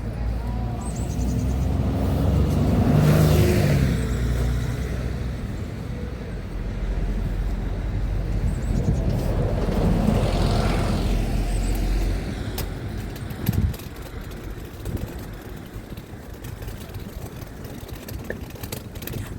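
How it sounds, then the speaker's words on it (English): A bus pulls up with its engine running on a roadside: a steady low motor rumble with two swelling passes as vehicles approach and go by, a brief knock near the end, set in ongoing traffic noise. "Bus is coming."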